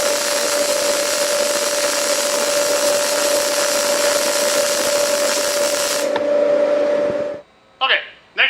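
Steady, loud MIG welding arc indoors, a continuous crackling hiss holding for about six seconds, then thinning out and stopping, with a couple of short bursts of sound afterward.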